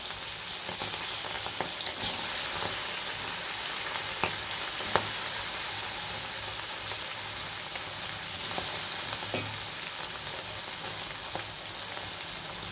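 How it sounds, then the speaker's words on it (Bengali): Tengra fish sizzling steadily in hot oil, a dense continuous frying hiss close by, with a few clicks and sharper spatters scattered throughout. "আমি এবার ট্যাংরা মাছগুলোকেও খুব ভালো করে ভেজে নেব"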